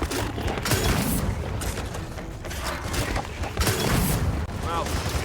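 Dense gunfire and thuds in the Gears of War 4 battle, a steady barrage of shots and impacts with a voice briefly audible amid the fighting.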